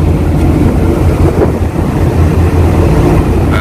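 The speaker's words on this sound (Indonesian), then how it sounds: "anginnya lumayan kenceng." Strong wind buffets the microphone aboard a ship at sea, a loud, constant roaring rumble mixed with low vessel noise and no clear breaks throughout the short stretch.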